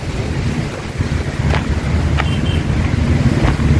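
Wind blows steadily across a pond in a marsh land park, a low rushing buffet against the microphone with a few faint brief clicks, no voices.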